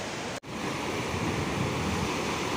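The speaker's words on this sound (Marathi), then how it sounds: "आपण हा समुद्रच बघू शकतो सध्या समुद्र किनारेच बघू शकतोय" Sea waves break on the Konkan shore near Revdanda fort, a loud unbroken roar of surf mixed with wind buffeting the microphone, with one tiny dropout near the start.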